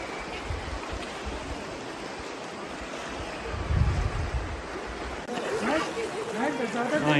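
Ocean surf washing around someone wading into cold water on a hike, a steady rushing wash with wind buffeting the microphone and a louder surge midway, sloshing splashes growing near the end.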